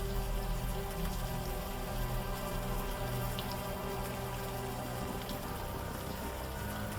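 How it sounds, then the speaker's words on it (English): Steady warm rain pours down in the video game Unavowed, a dense, even hiss of drops on surfaces that holds constant and alone for several seconds. "the warm rain is coming down"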